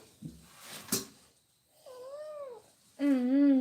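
A domestic cat up close gives a few soft chirps and a sharp click, then two drawn-out, wavering meows, the last one louder and rising. A faint purr may run underneath.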